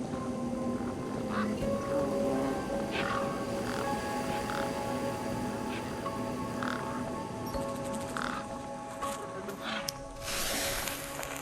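Ducks quack repeatedly in the Beyond a Steel Sky video game, scattered calls layered over a dense steady ambient bed of game sound.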